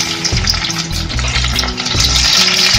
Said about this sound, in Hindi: अब हम उसमें बारीक कटी हुई प्याज डाल देंगे